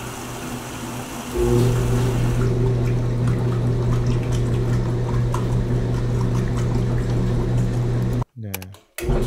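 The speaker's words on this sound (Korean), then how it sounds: "자, 요거는 워싱 머신이라고 되어 있네요." Old American-style top-loading washing machine from a sound effects library, a steady low mechanical hum with water rushing and sloshing as it fills, continuous and close, cutting off abruptly near the end.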